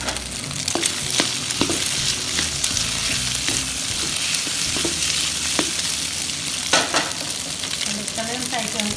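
Rice stir-fried with scrambled egg in a hot pan for a sour pork fried rice dish makes a steady sizzle, with repeated scraping and clacking of a spatula against the pan throughout.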